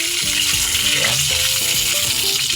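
Chicken pieces fry in hot oil with a dense, steady sizzle and crackle that stays loud and unbroken throughout, no talking.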